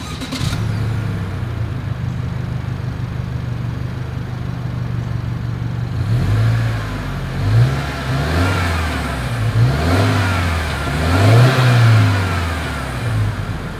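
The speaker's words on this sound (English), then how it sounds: "As always, here is that exhaust clip." A 2021 Subaru Outback XT exhaust idles for about six seconds, then revs repeatedly in loud rising and falling bursts, recorded close up with no talk.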